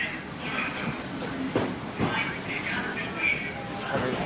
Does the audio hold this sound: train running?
yes